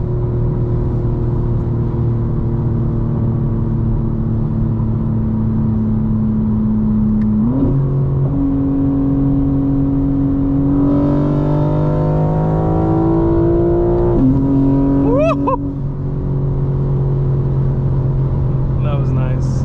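A 2025 BMW M4 Competition xDrive pulls hard under acceleration, its engine note climbing through gear changes with turbo whistle rising over a steady rumble, heard close from inside the cabin.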